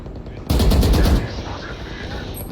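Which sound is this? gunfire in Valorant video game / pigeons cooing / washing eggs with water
gunfire in Valorant video game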